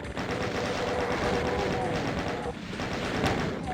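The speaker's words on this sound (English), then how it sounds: "Got a chain gunner on me doing a lot of damage." A chaingunner enemy in Doom II fires a continuous rapid burst of gunfire. The shooting runs steady and loud through the whole clip with game sounds mixed in.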